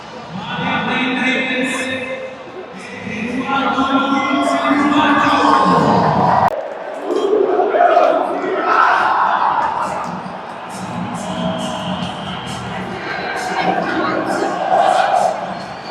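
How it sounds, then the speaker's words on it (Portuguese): Football crowd at Arena do Grêmio cheering and chanting, a dense wash of many voices filling the stadium, with a sharp break partway through and loud sustained singing after it, nearby shouts and talk mixed in. "A torcida, a geral."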